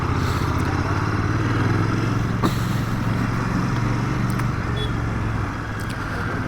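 A Royal Enfield Bear 650 motorcycle on a short ride gives a steady engine drone with road and wind rush. A brief click falls midway, and the level eases slightly near the end. No one speaks.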